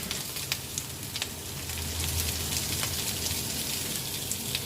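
Sliced onion with salt and curry leaves sizzling and frying in a pan, a steady crackling hiss that swells slightly partway through, close and alone with no voices.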